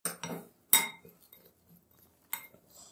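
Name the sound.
spoon mixing biryani masala spices in a bowl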